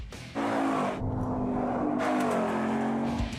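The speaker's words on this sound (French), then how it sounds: "son moteur V8 5 litres peut affronter la piste de course" A Ford Mustang Boss 302's 5-litre V8 engine roars loudly nearby, revving with a sustained throaty growl that shifts pitch as it accelerates.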